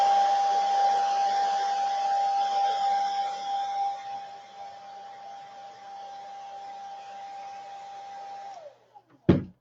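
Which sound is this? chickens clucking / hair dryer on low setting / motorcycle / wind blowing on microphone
hair dryer on low setting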